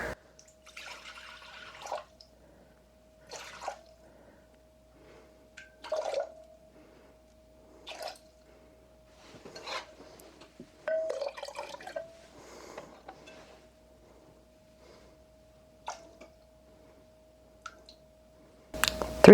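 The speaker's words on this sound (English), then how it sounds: "now we're going to add 320 grams of water." Water trickles and drips in short intermittent bursts into flour in an 8-cup measuring cup sitting on a kitchen scale for a sourdough starter, with a faint steady tone underneath and quiet pauses between pours.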